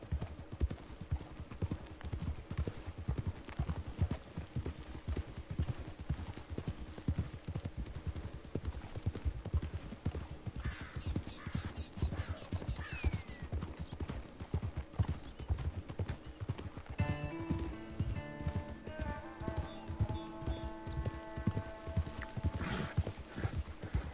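Steady clip-clop of horse hooves at a walking rhythm throughout in a video game, with a brief whinny and some tonal game sounds layered in toward the end.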